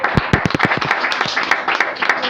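Church congregation applauding during a sermon, loud close clapping with sharp individual hits at first that blur into a fuller, continuous round of applause.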